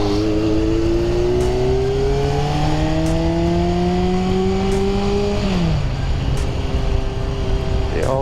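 A 1975 Honda CB750 motorcycle engine runs loud and steady while parked, its pitch rising gradually then dropping as the throttle eases, with a voice talking over it.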